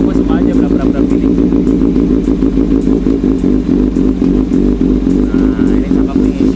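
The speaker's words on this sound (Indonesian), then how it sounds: "ini idle gini nih" A 2014 Kawasaki ZX636R motorcycle engine idles steadily up close, a loud, lumpy low throb with a slightly rough, uneven beat and light mechanical clatter.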